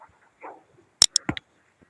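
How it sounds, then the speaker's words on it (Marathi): Small puppies give a few high, short yips and whimpers in quick succession, close and fairly loud. "2 छोटीशी कुत्र्याची पिल्लं आहेत."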